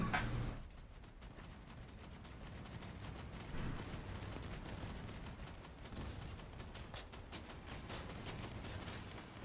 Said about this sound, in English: Oh, those are overslung shotguns.